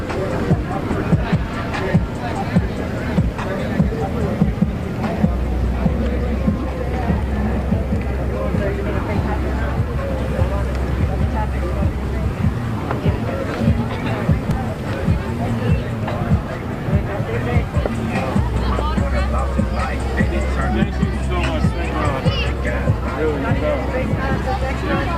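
A protest crowd marches and chants through city streets in Austin toward the Texas Capitol, a continuous dense babble of many voices that stays loud and even throughout.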